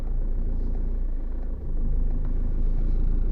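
Car driving to the shop, heard from inside as a steady low engine and road rumble with one brief dip partway through, no talking.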